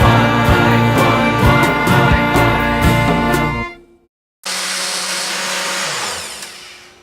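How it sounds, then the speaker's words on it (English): An old blender whirs loudly while blending a smoothie, a harsh grinding motor that cuts out abruptly, falls silent briefly, then starts again at a slightly lower, smoother pitch. "that's a really old blender, so that took a little longer than it would if you had a very fancy blender"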